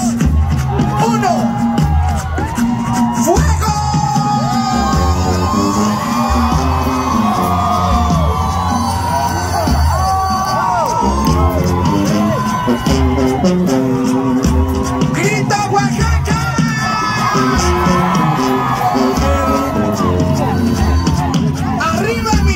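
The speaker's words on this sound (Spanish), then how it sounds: "todo mundo gritando" Crowd at a Day of the Dead carnival parade in Oaxaca shouting, whooping and yelling over a loud brass band with tuba, a dense, continuous and very loud roar of voices and music.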